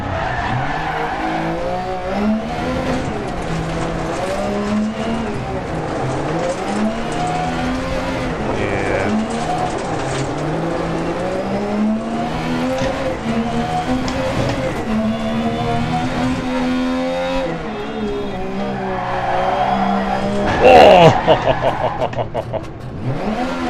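Rally car in DiRT Rally 2.0 revs and skids continuously, engine pitch rising and falling through gear changes with gravel and tire scrabble, a louder burst near the end; no talk over it.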